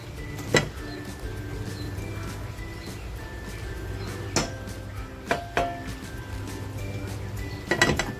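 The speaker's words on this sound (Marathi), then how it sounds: "पॅन बघा गॅसवर ठेवलाय तेल टाकते" A pan set on a gas stove in a home kitchen gives scattered sharp metallic clinks and clatters over a low hum, with quiet handling noises between them.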